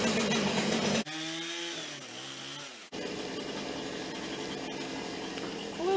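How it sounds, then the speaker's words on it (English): A chainsaw runs close by as steady, loud broadband engine noise that drops out briefly twice, once around a clay-forming pottery session, with a rising tonal sweep near the end. "Don't mind the chainsaw."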